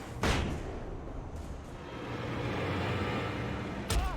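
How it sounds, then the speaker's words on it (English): A flashbang grenade detonates in the Alan Wake video game with a sharp, loud burst near the start, followed by a sustained rumbling wash and another sharp hit near the end. "Have another flashbang."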